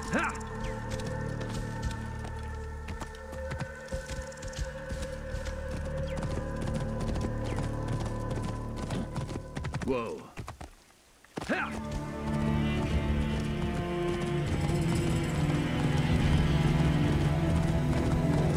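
A horse in Assassin's Creed Origins gallops along, steady rhythmic hoofbeats with game ambience and music underneath, briefly dropping out midway before resuming, loud and close throughout.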